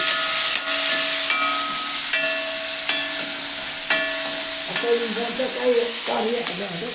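Clam meat (kakka) sizzles steadily in a hot pan with constant frying hiss, while a spoon scrapes and stirs in repeated strokes.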